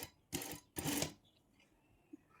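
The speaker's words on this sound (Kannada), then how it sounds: "ಈಗ ಸ್ಟಿಚ್ ಮಾಡೋದು ತೋರಿಸ್ತೀನಿ ಬನ್ನಿ" A sewing machine runs in two short bursts of rapid stitching while making a narrow dori fabric tube with a loop turner, close and fairly quiet, with a brief pause between and a soft click afterward.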